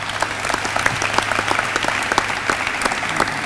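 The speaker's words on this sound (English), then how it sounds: "You can give him a round of applause too." Steady applause from an audience at a news conference, dense overlapping claps filling the whole stretch at an even, moderate loudness, with a faint low hum beneath.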